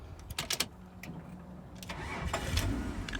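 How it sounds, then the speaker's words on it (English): A 2000 Holden VX Calais engine cranking in a few quick bursts, then catching and settling into a rough idle that builds slightly, heard close but fairly quiet. "the magic thing is to see if it starts"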